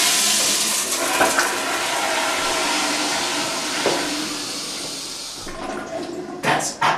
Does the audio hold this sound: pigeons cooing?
no